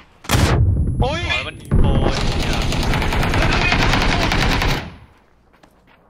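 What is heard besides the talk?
gunfire in the video game PUBG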